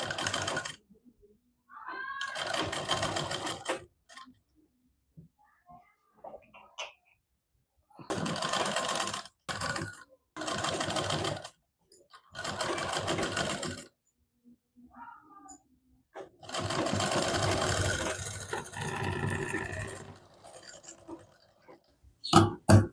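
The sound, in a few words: sewing machine stitching a double katori blouse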